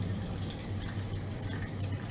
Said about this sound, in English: I don't know if you guys can hear the sound of the dripping water into the decanter